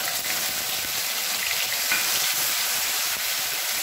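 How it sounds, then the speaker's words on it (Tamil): Shallot paste hits hot oil in a pan while a cauliflower masala fry is cooked with curry leaves. A steady, close, dense sizzle and crackle runs throughout with no talking. "இப்போ நம்ம அரைச்சு வச்ச சின்ன வெங்காய பேஸ்டா சேர்த்துக்கலாம்."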